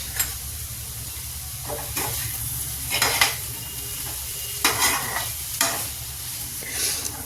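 Potatoes and spinach saag frying in a pan are stirred with a spoon, giving a steady sizzle broken by several scraping, rustling stir strokes, close and alone with no talk.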